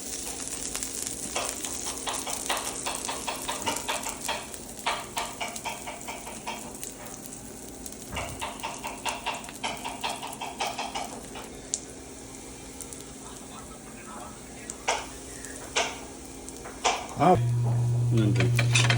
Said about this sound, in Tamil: நல்லா 4 கரண்டி எடுத்து பெருமாளுக்கு திருப்தியாக அப்படி நெய்லியே வேக வைக்கணும்